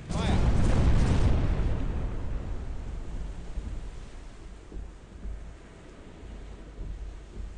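Pirate ship cannons fire in a naval battle video game, a heavy rumbling boom burst that swells loud for the first second and a half, then decays into a long low rolling rumble with scattered smaller thuds.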